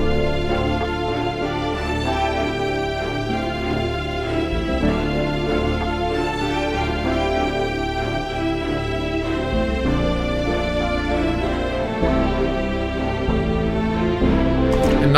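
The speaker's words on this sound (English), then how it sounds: "a variation of the string line" A dramatic string line variation swelling toward a climax, dense sustained orchestral strings layered with other instruments, loud and continuous, with a bright lift near the end.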